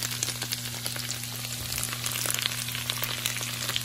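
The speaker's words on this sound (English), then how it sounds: "So this is how I fry my potatoes." Potatoes fry in a pan at home with a constant, busy crackle and sizzle, close and even, with scattered pops and no speech.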